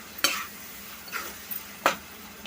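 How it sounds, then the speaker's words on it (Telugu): Tomatoes and onion chili paste with amaranth greens stirred in a pan: three short, quiet scraping strokes spaced unevenly over a faint background sizzle. "ఈ టమాటాస్ అని ఇంకా ఉల్లికారాన్ని ఒకసారి కలుపుకుందాం"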